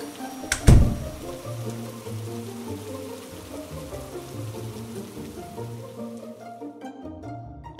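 Rain patters steadily outside a forest cabin in a Peppa Pig toy play scene, with a sharp knock near the start and soft tones underneath, then fades away toward the end.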